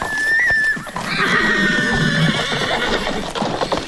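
Horses whinny loudly in a radio drama staging, a shrill neigh opening the scene before a second horse calls out over steady clip-clopping hooves and a rustle of movement, close and full.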